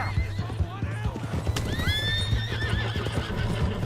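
A horse in the Red Dead Redemption 2 video game whinnies with a rising, squealing neigh while hooves clip-clop in a steady rhythm close by, with game voices heard over the sounds.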